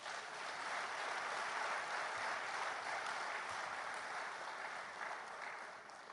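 Steady applause for sponsors at an economic summit in Lagos, a sustained broadband wash of clapping from a large audience, fairly faint and even throughout with no talk over it.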